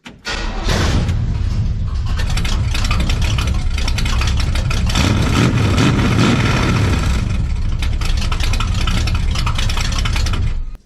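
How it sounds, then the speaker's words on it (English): GMC truck with a slightly cammed small block 350 V8 and straight-piped exhaust running loud and close: a rough, booming idle with choppy pulses holds steady for about ten seconds, with no talk. "It's got a small block 350, cammed up a little bit, straight piped. It's obnoxious."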